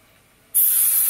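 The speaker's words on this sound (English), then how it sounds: "A little bit of this Ion Sugar Dry Texture and Finishing Spray just to give it" A single continuous burst of Ion Sugar Dry Texture and Finishing Spray hisses from an aerosol can onto hair, starting abruptly after a moment of quiet and holding loud and steady close to the microphone.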